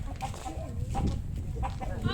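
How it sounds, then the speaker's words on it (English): Rooster on a village street in Padang, West Sumatra, Indonesia, giving several short clucks close by over a murmuring outdoor background with some faint voices. "Oh, there's a rooster. Check that out."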